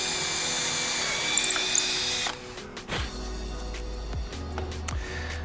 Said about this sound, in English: We're gonna drill a 3/16 hole.